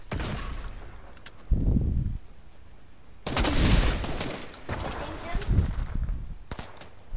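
Bursts of video game gunfire in Fortnite, loud volleys and rapid shots in separate clusters with gaps between, while players talk over the action.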